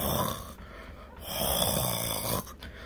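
A voice imitating a snoring granny: two drawn-out, rasping snores with a brief pause between them, close and loud.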